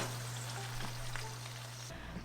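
Scallion greens fry in hot oil in a pan, a soft, even sizzle and crackle close by with a low steady hum underneath, no voices.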